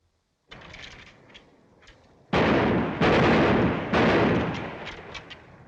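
Loud rifle gunfire rings out at army firing practice: faint scattered reports first, then three heavy, sustained bursts of shots close by, with no voices.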